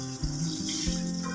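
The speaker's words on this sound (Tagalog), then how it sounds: "Tapos lagyan natin tubig." Water pours steadily into a cooking pot of sotanghon for a moment, a continuous splashing gush close by with a faint sizzling hiss underneath.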